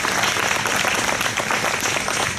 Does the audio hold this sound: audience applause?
yes